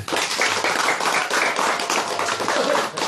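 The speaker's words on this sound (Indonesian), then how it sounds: "Tepuk tangan." A room full of people claps in a dense, continuous round of applause that stays loud and even throughout.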